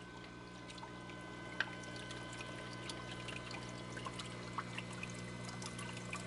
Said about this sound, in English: I think I ended up spending about hour 15 minutes, or maybe even more, just kind of doing a slow drip on the pistol shrimp.